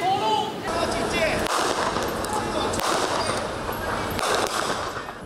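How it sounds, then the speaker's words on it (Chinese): Blank-round gunfire echoes through a city street during a midnight military and police defence drill, heard as several sharp reports with long reverberation behind continuous loud talk. "空包弹的枪声回荡在午夜市街地"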